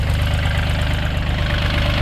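A used 2008 Kubota L3408DT tractor's diesel engine idles steadily nearby, a loud, even low throb with a regular knocking pulse and no speech.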